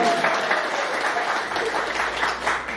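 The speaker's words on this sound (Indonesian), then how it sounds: "Ayo kita kasih aplaus untuk Bapak Sopiantan walaupun Bapak itu tidak ada di sini." An audience at a community gathering in Belawan gives steady, loud applause. The dense clapping continues without a break, and some crowd murmur sits in the background.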